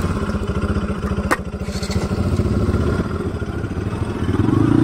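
A motorcycle engine idles close by with a fast, steady putter, a sharp click or clatter partway through, and a slight rise in revs toward the end, no talking.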